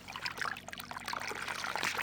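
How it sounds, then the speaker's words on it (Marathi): A thin trickle of water running from a pipe after the pump motor has stopped, a soft, continuous splashing dribble heard close and fairly quiet. "किती थोडं पाणी येते बघा"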